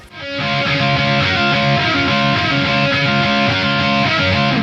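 An electric guitar plays a pop punk single-note lead line, loud and sustained, with a steady pulsing rhythm throughout and no voices.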